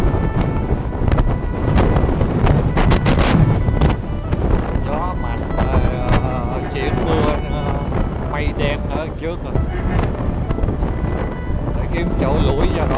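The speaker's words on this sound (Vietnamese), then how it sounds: "Gió mạnh" Strong wind gusts roar steadily against the microphone outdoors in Tây Ninh, Vietnam, just before rain, under large old trees. Someone talks throughout, mostly buried in the gusting noise.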